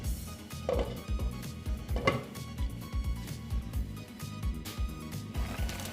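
A lid is set down on a cooking pot of egg and boiled-potato dhoka dalna curry, making a couple of brief metallic knocks over steady low kitchen rumble.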